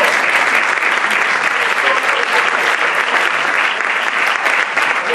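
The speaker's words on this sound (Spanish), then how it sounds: "se merece igualmente un aplauso" Dense, steady applause from a large audience at a book presentation, continuous and loud throughout with no break or fade.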